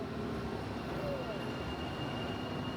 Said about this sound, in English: the train does get very close to the walls of the tunnel.